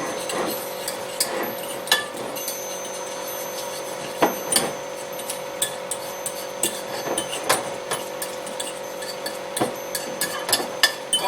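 Black pepper is ground in a pepper grinder at medium grind over egg and olive salad, an uneven series of dry crunching cranks and clicks, close and moderately loud with no talking.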